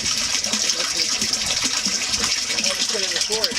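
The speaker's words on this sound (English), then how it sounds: "That's the water." Water gushes and splashes steadily in an off-grid homestead aquaponics system, a continuous close pour with bubbling, while people talk over it.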